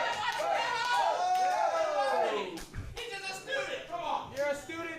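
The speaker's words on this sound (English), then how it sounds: "Listen to that crowd reaction for Bert Candy." A wrestling crowd at a live showcase event roars and chatters right after the opening bell, with loud cheering and calls swelling across the arena and a brief dip before rising again.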